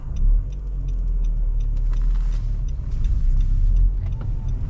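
Road traffic queued at a traffic light, with cars idling and creeping forward in a steady low rumble heard from inside a Nissan, loud and continuous with no one speaking.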